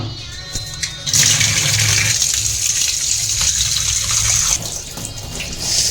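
Tap water gushes steadily while fish is washed, starting after a quieter moment and then running loudly for several seconds before easing near the end, with no one talking.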